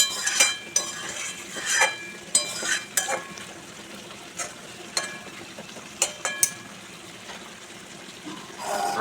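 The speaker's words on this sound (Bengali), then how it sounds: "সব কিছু উপকরণ একবার ভালো করে লাড়াচাড়া করে নিচ্ছি একটু।" Tomato, diced potato and fried potato being stirred in a pan for a rui fish curry with ridge gourd, giving repeated scraping and clinking strokes over a soft sizzle, no voices.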